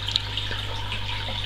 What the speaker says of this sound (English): I put the filter, so the spray bar spraying down in the water, just to push oxygen into that water